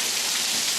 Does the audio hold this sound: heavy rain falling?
yes